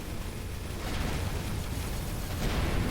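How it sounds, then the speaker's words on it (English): Cannon fire in the space game Avorion, heard as a continuous dense, rumbling barrage of booms and bursts that stays loud and steady for a few seconds with no talking. "I hear a cannon firing at us, or something like it."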